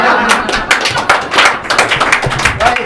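A studio audience at a Marathi roasting comedy show breaks into a burst of clapping, loud and close, with scattered claps and thumps continuing throughout.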